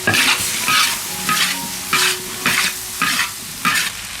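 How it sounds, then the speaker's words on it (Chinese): Lamb offal stir-fried in a wok over high heat, seasoned with soy sauce and pepper, gives rhythmic bursts of sizzling and scraping, about eight even strokes, close and clear with no talking. "用大火给它炒了"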